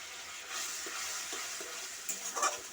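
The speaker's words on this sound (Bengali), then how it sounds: "ভালো করে আমি হলুদ লঙ্কা গুঁড়ো দিয়ে আমি এটাকে আমি কষাবো" Masala with turmeric and chili powder being sautéed for a kudrui curry, a soft continuous sizzle under occasional spoon scrapes, with a louder stir near the end, close and fairly quiet without speech.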